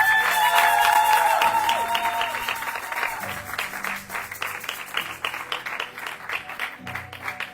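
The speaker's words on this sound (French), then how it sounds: "Est-ce qu'on peut les acclamer?" A church congregation breaks into loud applause during a service, dense clapping with cheering that gradually thins into scattered claps.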